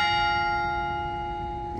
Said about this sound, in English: It does chime a little, it's a little bit fast, this clock